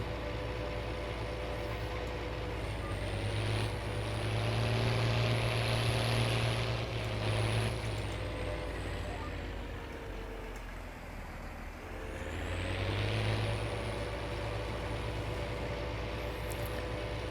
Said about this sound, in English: Still learning this tractor and planter setup.